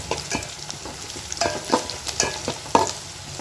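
Onion, garlic and chilli sautéing in a hot pan, with a soft steady sizzle and repeated sharp clinks and scrapes of a spoon stirring against the metal, close and moderately quiet.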